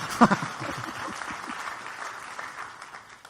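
Sparse, hesitant clapping from a small crowd, a brief spattering of hands that quickly thins out and fades.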